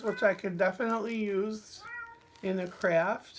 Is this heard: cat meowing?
yes